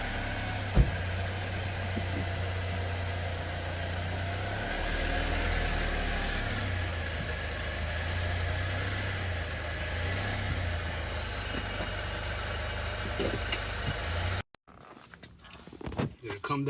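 A 2024 Jeep Compass with a 2.0 turbo engine idles steadily at close range while being driven up onto ramps, a low continuous engine drone that cuts off near the end, followed by faint handling noises.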